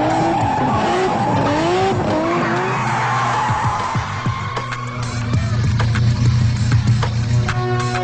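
Race cars skid through a street race, loud tires squealing in long sliding sweeps over revving engines, with clattering noises building toward the end.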